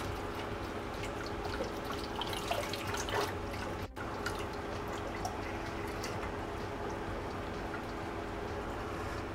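The last Star San sanitizer draining out of a homebrew keg, a faint continuous trickle and drip of liquid under a steady background hum.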